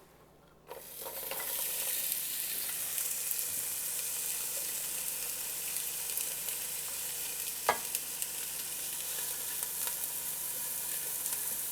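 Onions dropped into hot oil in a pot on the stove, a quiet start giving way to a sudden, sustained loud sizzle with occasional stirring knocks, including one sharp clack.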